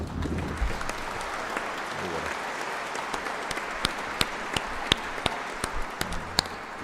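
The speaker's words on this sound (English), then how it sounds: "once again, give him the big clap" Audience applause at a live gathering honoring a sincere teacher during a saint celebration program, a steady wash of clapping with sharp individual claps popping out toward the end.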